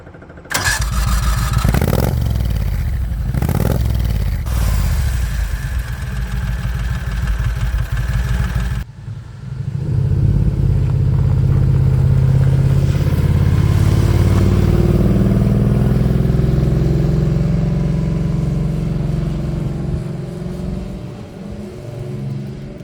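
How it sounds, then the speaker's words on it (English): Small Renault car powered by a 670cc Predator lawnmower engine, loaded with 500 extra pounds, drives on a road test. Its engine drones loudly and steadily throughout, its note shifting and settling into a lower, rougher run partway through. "Let's see how this little lawnmower powered car handles the extra weight."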